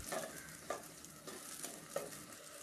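Small onions (shallots) sautéing in oil in a pan with lightly salted stirring, a soft steady sizzle broken by three or four distinct scrapes of the spatula, close and fairly quiet.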